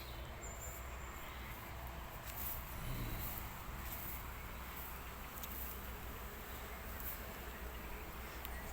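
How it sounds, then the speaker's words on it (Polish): Honeybees buzz faintly and steadily around a spot where a swarm had settled, a soft continuous outdoor hum with no talk. "A tam też widzę pszczoły"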